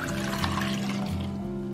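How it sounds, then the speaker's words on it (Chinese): A milk mixture made with corn starch and pure milk pours into a pot as a soft, steady liquid stream for a couple of seconds, close by and alone. "把牛奶液倒入锅中"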